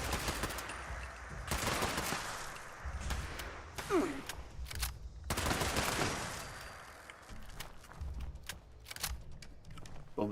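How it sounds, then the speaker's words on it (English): Bursts of automatic gunfire in the video game Fallout 76, sharp rapid volleys in several clusters with brief gaps between, fairly close and loud over a faint background. "but you're apparently shooting me instead"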